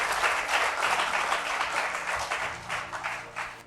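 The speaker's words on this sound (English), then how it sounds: "A round of applause." Audience applause welcomes a contestant at a school quiz competition semi-final in Ogun State, a steady wash of many hands clapping that holds at even strength with no voices over it.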